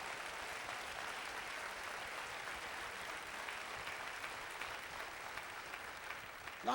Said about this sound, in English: let's give this ministry a tremendous round of applause